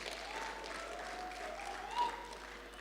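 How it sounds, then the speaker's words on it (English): A choral competition audience gives a round of applause, a faint distant patter of clapping from a hall, steady and soft, with a brief louder swell near the end. "Let's give him another big round of applause"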